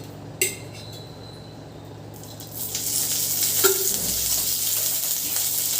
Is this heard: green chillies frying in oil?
yes